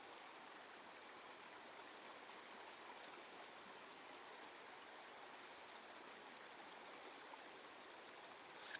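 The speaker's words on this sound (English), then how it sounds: "Look at those beautiful waves dancing on top of each other." A river flows in a soft, steady rush, faint and even throughout like a distant stream, with a short louder bump at the very end.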